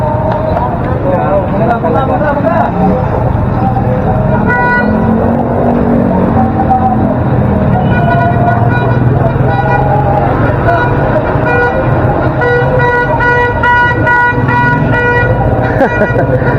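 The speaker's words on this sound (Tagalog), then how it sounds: "Torutot pala yun." Repeated tooting from a small toy party horn sounds over steady background chatter and road noise, the toots coming in short bursts throughout.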